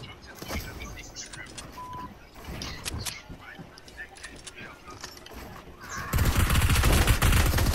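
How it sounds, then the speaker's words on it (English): Gunfire in the video game Fortnite, including a gold SMG: bursts of shots crackle at moderate distance, then a dense, loud stretch of rapid fire near the end, with voices talking over parts of it. "Someone shot at me from northwest."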